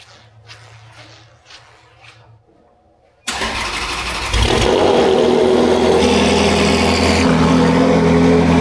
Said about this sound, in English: burning the exhaust a little bit, make sure it's not rattling or anything